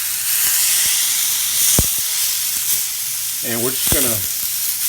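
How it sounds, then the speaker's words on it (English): Pork tenderloin sears in a little oil in a cast iron skillet, a steady close hiss and sizzle while someone talks over it. "try to seal the juices in this and sear it on each side for just a few minutes"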